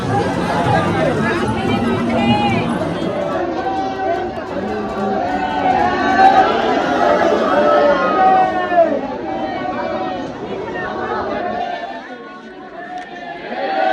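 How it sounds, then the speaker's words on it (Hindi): Dense crowd of pilgrims at Shri Ladli Ji temple in Barsana, a continuous babble of many voices and footsteps close around, steady and loud, easing slightly near the end. "भीड़ आप देख सकते हैं कि कितनी ज़्यादा यहाँ पे भीड़ है"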